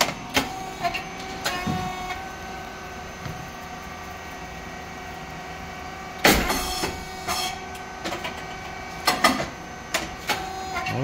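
A rice cake machine, model SYP35100 (S3) with hydraulic oil tank and up-positioned switch box, runs with a steady mechanical hum and repeated sharp popping bursts at intervals.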